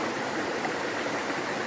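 River water flows at Ramanadhi dam in Kadayam, a dense, steady rushing wash heard close and unbroken for a short moment, with no voices.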